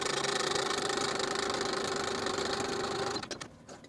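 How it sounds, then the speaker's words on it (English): A sewing machine set to its longest stitch runs basting stitches across blouse sleeve fabric, a steady close mechanical whir with rapid needle chatter for about three seconds before stopping. "we're going to sew basting stitches from one side to the other with about a 1/4 inch seam allowance using the longest stitch on your machine"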